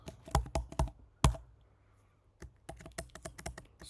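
Computer keyboard typed on while writing a Spring Boot GraphQL query, clusters of sharp close key taps, a quiet pause in the middle, then a quicker run of clicks.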